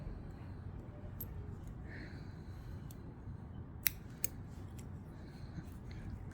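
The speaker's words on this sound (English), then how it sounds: "now we're going to snip our work" Scissors snipping crochet yarn: two quick, crisp snips close by against a quiet background hiss.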